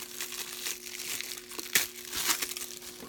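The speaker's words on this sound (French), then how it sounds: "Je vais vous le déballer." Plastic film crinkles and tears as a Blu-ray case of The Kitchen is unwrapped, a close, quiet rustling with a few sharper crackles and a steady faint background hum.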